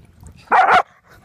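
A dog gives one short, sharp bark with a whimpering edge, close and loud, set against near silence.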